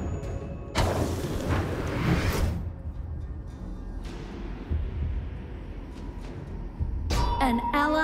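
A turret being destroyed in the mobile game Honor of Kings, a burst of booming, whooshing effects followed by quieter game sounds and then a sharp chiming cue near the end.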